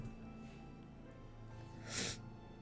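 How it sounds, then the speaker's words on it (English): A single short sniffle, a quick intake of breath through the nose, faint against a quiet humming background. "sorry about the sniffles"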